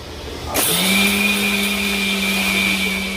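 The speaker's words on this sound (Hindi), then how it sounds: "उसके बाद में मैंने मिक्सर से ये गर गर गर गर गर ऐसा मिक्स कर दिया" A kitchen mixer grinder blending homemade protein powder starts up abruptly and whirs loudly and steadily, a sustained close motor whine with no talk over it.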